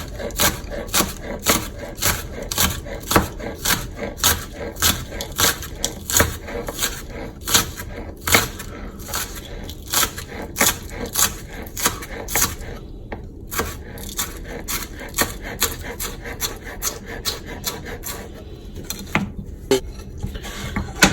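A kitchen knife chopping green onions on a cutting board, a steady rapid series of close knocking chops that keeps going with only short pauses, faint talk barely audible underneath.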